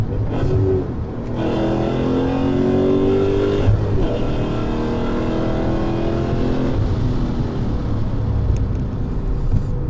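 Inside a 20-year-old BMW E39 M5 with a Dinan S2 engine, the motor drones loudly and steadily on the road, rising in pitch through a couple of accelerations and gear changes.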